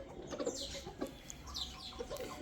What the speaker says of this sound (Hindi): मट्टी पे मुर्गे फिर रहे हैं माशाल्लाह।